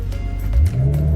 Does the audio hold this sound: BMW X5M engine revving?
yes